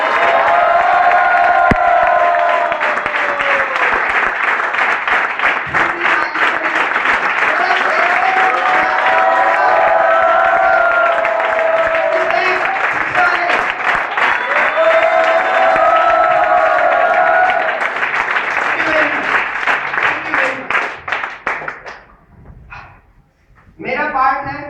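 A large audience at a business presentation claps and cheers loudly for a long stretch, dense sustained clapping with whoops and shouts rising over it, then fading away near the end.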